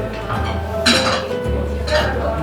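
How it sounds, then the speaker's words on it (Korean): Glasses clink together in a light toast at a dining table, two bright, short chimes about a second apart, heard close over a steady room background. "먼저 그러면 가볍게 짠하시고"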